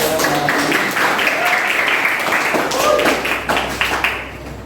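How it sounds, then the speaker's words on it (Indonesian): Classroom applause breaks out after a student role play, a steady dense patter of many hands clapping close by that carries through the whole moment and eases off slightly at the end. "kita beri aplaus yang meriah"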